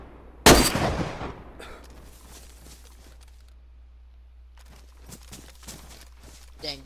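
A single loud, sharp Mosin rifle shot in the survival game DayZ cracks out and decays into a long echo, followed by quieter scattered thumps and clatter.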